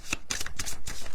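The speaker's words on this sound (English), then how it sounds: "All right, one more shuffle and see what we get." A few quick riffles of a card deck being shuffled, close and crisp, with no talking.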